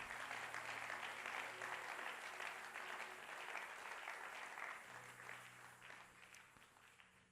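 A church congregation applauds Jesus during a French-language worship service, a dense sustained round of clapping heard somewhat distant and quiet that eases off over the last couple of seconds.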